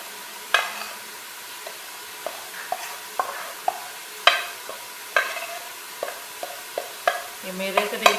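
Spices being mixed into about a quarter kilo of yogurt in a bowl for Bombay biryani, with a series of scraping, clinking stirs at irregular intervals, fairly close and moderately loud, no talking.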